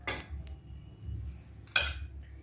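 Dishes and cutlery clatter as a home-cooked meal of spinach, masoor dal, beans with carrot and chicken is served, two sharp nearby clinks of metal on plates over a quiet room.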